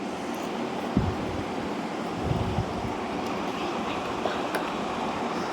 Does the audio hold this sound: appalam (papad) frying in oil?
yes